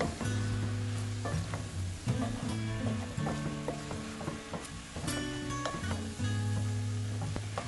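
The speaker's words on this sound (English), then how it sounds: "Add 3 tablespoons of perilla seeds powder and stir." Sautéed squash being stirred in a pan with perilla seed powder, a soft continuous sizzle with scraping stir strokes, close up, while steady tonal background music runs underneath.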